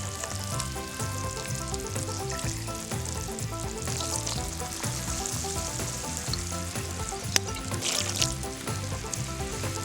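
Three ounces of bourbon poured into a hot pan of peaches for peach foster, a steady moderate sizzle with brief bubbling bursts and no voices.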